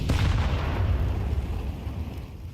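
An HE grenade explodes in Counter-Strike with a heavy, booming burst right at the start, then a deep rumble slowly decays in a short, close clip.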